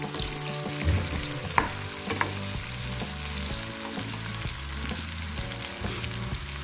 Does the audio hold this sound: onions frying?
yes